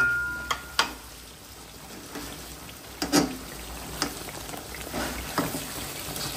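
Fried chicken dropped piece by piece into sizzling roast masala, a soft continuous frying hiss punctuated by several sharp splashes and clatters at irregular intervals, fairly close and without talk.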